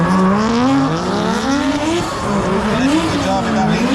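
Drift cars racing in tandem at the LZ Invitational, a Mazda RX-7 FC leading a PS13, engines revving loudly with rising and falling pitch throughout, a steady roar with tire noise beneath and a voice talking over it.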